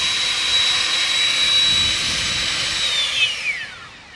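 An Aoetree electric leaf blower runs in turbo mode with a loud, steady, close airy roar and a high whine on top. Near the end the pitch slides downward as the motor spins down and the sound fades.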